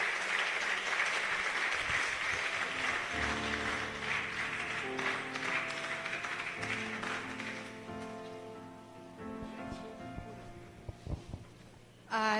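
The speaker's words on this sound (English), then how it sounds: "A round of applause as he makes his seat." Sustained audience applause at a university event as a guest speaker takes his seat, a dense wash of clapping that gradually thins out while a few tonal instrument-like notes sound beneath it.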